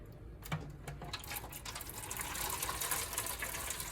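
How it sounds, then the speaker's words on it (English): Hot water runs steadily from a tap into a pan, a continuous splashing hiss that grows fuller and louder as it fills. "we're gonna get hot water and we're gonna fill it up"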